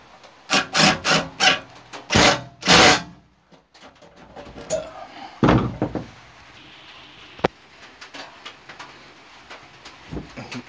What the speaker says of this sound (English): then you have to spin the seat round to finish the last one off